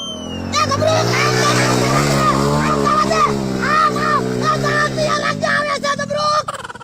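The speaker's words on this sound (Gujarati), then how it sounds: "એ ગાડી નો અવાજ આવે ત્યાર રહેજે ગમરૂ કાકા આવે ત્યાં" A car engine sound effect revs with rising and falling tones and ends in a short burst of clatter. People talk over it throughout.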